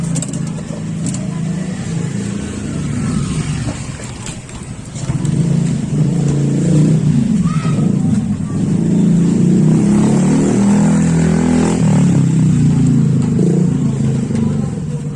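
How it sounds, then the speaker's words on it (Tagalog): A Yamaha STX 125 motorcycle engine turns over and settles into a loud idle, then revs up and holds a rough, throaty roar close by. "paandarin ko na tong motor mga ka-vlog. I-start ko po siya."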